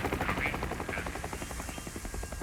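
Military helicopter in the video game Hell Is Us, a steady throbbing rotor chop pulsing rhythmically throughout, fairly close and continuous with no talk over it.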